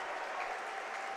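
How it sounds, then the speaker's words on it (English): Steady applause from the crowd at a high school Section 8AA championship medal ceremony, Perham versus Staples-Motley, as the assistant coach receives a medal; a dense, continuous clapping wash with no talk. "getting a nice round of applause from the crowd here"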